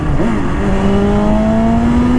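A BMW S1000RR Pro M Sport motorcycle accelerates hard on a highway, its engine note rising in a loud, steady whine that climbs in pitch through a gear change, heard up close over constant wind rush.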